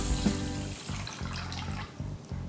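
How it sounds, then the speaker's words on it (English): Water poured over washed rice and dal for soaking while making Davanagere butter dosa batter, a soft steady splashing stream with gurgling pulses, close and fairly quiet, with no talk. "After washing, let's put some 5 cups of"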